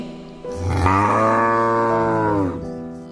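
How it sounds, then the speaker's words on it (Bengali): A single long, loud cow moo, deep and sustained for about two seconds, heard close and alone. "সেই সময় তাদের কপিলা গরু ডেকে ওঠে"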